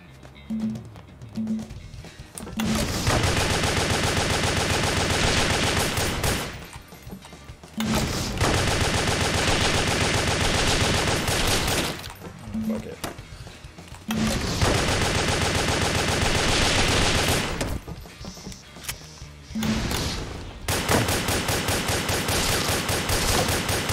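Submachine gun fire in the PlayStation 3 game Wet comes in long, loud sustained bursts separated by brief pauses, with a few isolated shots between the volleys.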